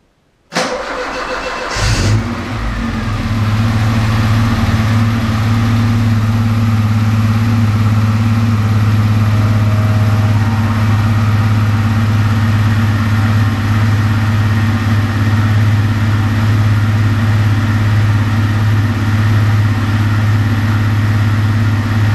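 A 1990 Alfa Romeo Spider engine cranks briefly, catches and settles into a steady, loud idle that continues unbroken for about twenty seconds, close to the microphone with no talking.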